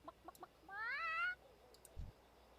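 A voice imitates a chicken with a rising, wavering squawk-like cluck held for about half a second, preceded by a few short clicks and followed by a low thump, all fairly quiet in a game setting.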